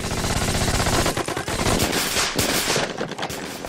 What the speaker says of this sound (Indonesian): pasukan musuh seketika menghujani mereka dengan tembakan senapan mesin